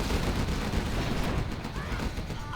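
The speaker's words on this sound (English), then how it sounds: "That new cannon, though. Look at these double shots, man." Cannon fire from a new China unit in Command & Conquer Generals Zero Hour on the Arizona Airfield map, a loud continuous barrage of booming gunfire and blasts filling the whole stretch with dense rumbling battle noise.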